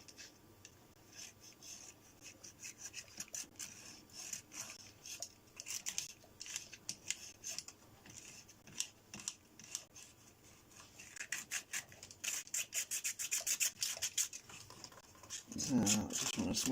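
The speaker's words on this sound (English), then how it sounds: "I just want to smooth that corner out so that metal, so that nanocrystalline will seat properly in the corner." Quick, scratchy strokes of filing or abrading rub at the corner of a metal part, irregular bursts of rasping and scraping that grow busier toward the end, close and fairly quiet.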